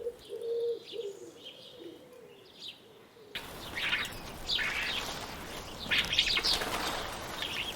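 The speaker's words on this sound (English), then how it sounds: "But the sound of the cooing" Soft, low pigeon coos repeat close by, followed by a flurry of flapping wings and bright chirps from other birds.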